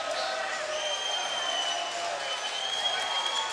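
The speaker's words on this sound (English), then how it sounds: "The crowd is still reacting as if it just happened." Crowd at an MMA event cheering and shouting after a knockout, a steady wash of distant roaring with some whistles, under a commentator's voice.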